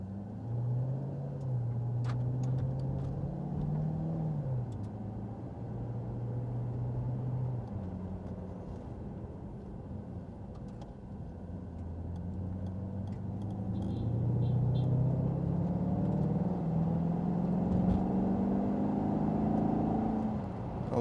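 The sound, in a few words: 2012 Maserati GT Convertible driving on the road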